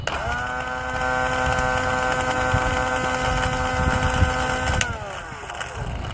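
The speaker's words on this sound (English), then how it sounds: "That actually sound like it's just the motor alone moving and nothing else." A 12 volt car air compressor motor runs without pumping air, giving a steady droning hum with sustained tonal whine that drops away as it winds down near the end.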